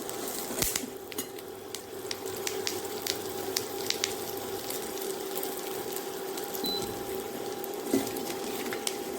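Garlic frying in a pan for a Tamil-style garlic chutney, giving a steady soft sizzle with occasional stirring clicks and scrapes, close and continuous with no talk.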